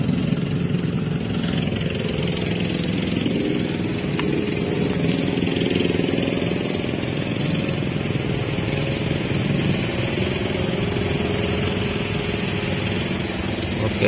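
Several motorcycle engines idle and rumble steadily close by in a traffic queue at road paving works, a continuous droning clatter with no break.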